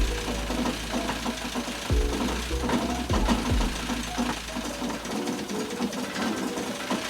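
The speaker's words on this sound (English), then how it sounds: "That rattle you can hear in the background is actually the heater core rattling about inside its housing, not the engine knocking." An MG Midget's engine runs after years abandoned while its heater core rattles loosely inside its housing, giving a steady, fast mechanical clatter over the engine hum. A few lower thumps come early on, and the sound is close and continuous.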